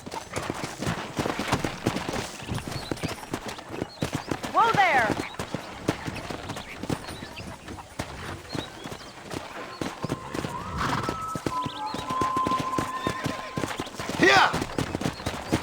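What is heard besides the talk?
horses galloping in video game Red Dead Redemption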